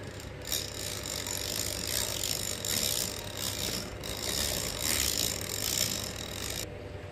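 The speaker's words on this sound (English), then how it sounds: "I like to use a mixer in my stirring." An electric mixer whirs steadily through cake batter of milk and oil, a continuous close mechanical drone with slight rattling that rises and falls in intensity before stopping abruptly.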